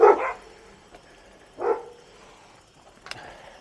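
A big dog barks on a quiet rural road near an old castle in Catalonia, giving two loud, close barks about a second and a half apart, followed by a fainter yip.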